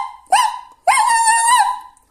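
A puppy gives two close, loud barks, a short yip and then a longer, drawn-out whining bark, with no other sounds around.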